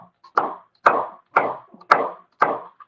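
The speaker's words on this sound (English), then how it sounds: "You guys can hear that knife on boom, boom, boom, boom." Five evenly spaced chops of a knife cutting celery on a cutting board, crisp and close, each a sharp thud with a short pause between.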